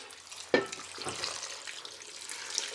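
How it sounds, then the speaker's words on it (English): Water is poured into a cooking pot while making Guyanese-style mango sour chutney, a soft close splash that starts with a bump and then runs on as a steady low gush. "now what we're going to do is just pour our water into the pot"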